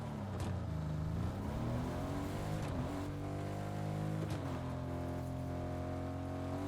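A car engine in the Fortnite video game revs and shifts pitch repeatedly while driving, a continuous, fairly close motor drone with rising and falling sweeps and no voices over it.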